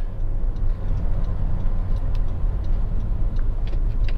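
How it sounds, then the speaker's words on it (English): Honda Civic 1.8 i-VTEC EX GT hatchback with a normally aspirated petrol engine idling at full operating temperature, a steady low hum with faint light ticking over it, alone and close. "Engine is sweet in operation, very, very nice."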